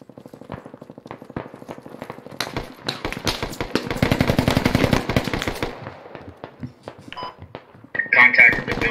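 Rapid bursts of automatic gunfire from a first-person video game shooter, a dense sustained volley in the middle and sharper shots near the end, with players talking over it.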